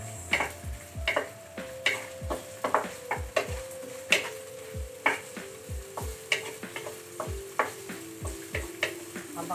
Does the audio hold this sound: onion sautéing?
yes